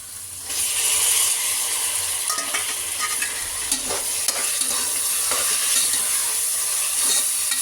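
Tomatoes sauté in a hot pan for mutton biryani, a loud, continuous frying hiss with scattered crackles and scraping stirs running throughout after a softer start.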